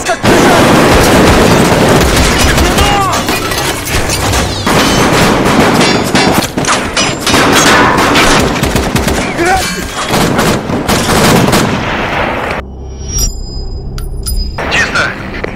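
Gunfire and explosions in a war video game as an SCAF group attacks: dense, loud, continuous volleys of shots and booms that stop abruptly near the end, leaving faint ringing tones.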